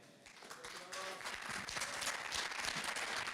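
Applause from a church congregation, starting softly and swelling into a fuller round of many hands clapping, fairly quiet overall, with a voice briefly heard at the start.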